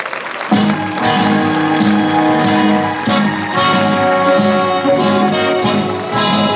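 An outdoor crowd in Valencia's Plaza de la Virgen applauds a singer at a July 2024 tribute concert, the clapping blending with a sustained musical accompaniment throughout.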